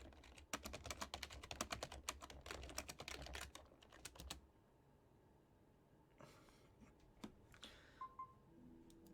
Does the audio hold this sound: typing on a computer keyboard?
yes